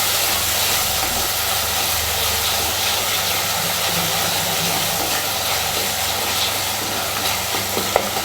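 Eggplant sautés in a pan for sukku milagu kulambu with a loud, continuous sizzle and hiss, broken by faint stirring scrapes and a small clink near the end.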